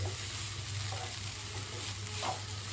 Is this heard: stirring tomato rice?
yes